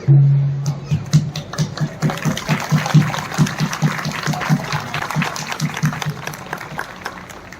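At a Janmashtami stage event, a disabled performer claps with one hand in a quick, steady run of sharp slaps. A low hum sits under the claps and a voice speaks at the very start.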